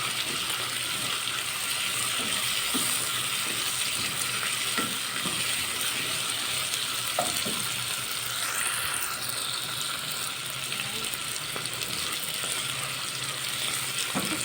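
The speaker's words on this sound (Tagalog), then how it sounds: "Siyempre, hindi pa kontento sa kakaluto ng sibuyas. Hinalo ko ng hinalo." Onions fry in a pan with a steady, close broadband sizzle. Scattered clicks and scrapes from stirring run through it, and no one speaks.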